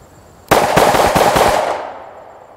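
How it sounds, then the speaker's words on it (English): A Springfield Hellcat 9mm pistol fired fast outdoors: a rapid string of about six loud, close gunshots in just over a second, followed by a short ringing decay, with no talking. "the gun itself climbed a little higher while I was shooting it fast"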